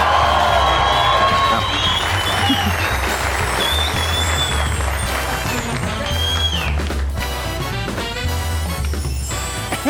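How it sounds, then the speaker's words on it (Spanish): A theatre audience cheers, whoops and applauds loudly and continuously as the comedian Don Hediondo is welcomed onstage at a tribute show, with shouts rising above the steady clapping throughout. "Y quiero que lo reciban con un gran aplauso."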